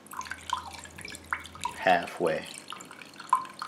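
Ginger water poured into a container while making a rum and ginger lemonade slushie, short splashing trickles between pauses as a person talks over them.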